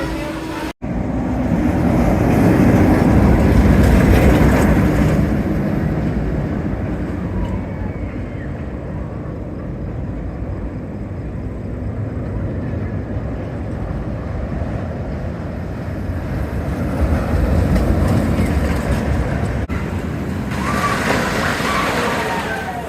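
A roller coaster train at Kings Island runs from the middle seat position, giving a continuous loud roar of wheels and rushing wind. The roar swells near the start and again toward the end.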